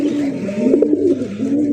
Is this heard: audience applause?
no